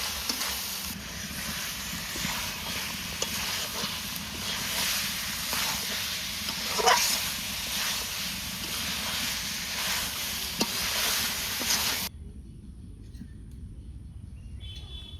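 Chilli, coriander, meat masala and Kashmiri chilli powders fry together in a pan, a steady crackling sizzle with occasional stirring scrapes that drops away abruptly near the end, leaving a quiet room.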